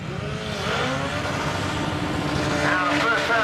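A drag car's engine revs hard at an HKS Street drag event, a loud, sustained snarl with pitch sweeps and dense crowd-and-track noise underneath.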